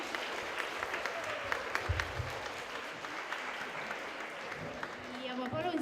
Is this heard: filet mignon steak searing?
no